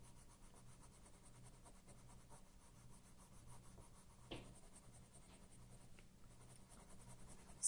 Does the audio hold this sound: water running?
no